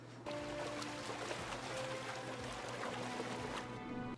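Water pours steadily in an animated Star Wars series scene, a continuous splashing trickle running for about four seconds, with faint music beneath it.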